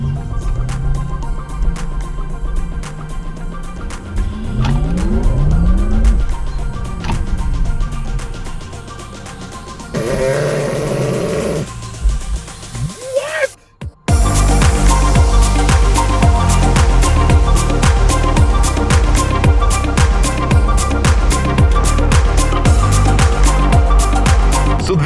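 Synthetic drive sound of a Porsche Taycan Turbo S in Sport Plus mode, with rising electronic tones sweeping up during acceleration, a short dip, then a loud, steady roar of cabin and road noise.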